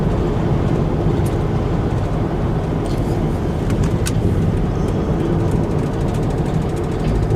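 Dodge Caravan wheelchair-accessible van cruising at about 67 mph, a steady loud broadband road and wind roar heard from inside the cabin throughout, with no talking.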